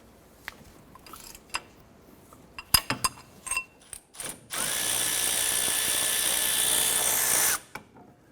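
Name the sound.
power tool with 13mm socket removing caliper bracket bolts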